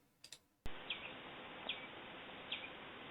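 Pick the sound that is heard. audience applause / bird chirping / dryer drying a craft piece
bird chirping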